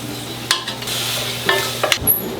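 Braised pork ribs are turned with tongs in a sizzling pan: a steady close sizzle broken by a few sharp metallic clacks and scrapes as the meat is flipped.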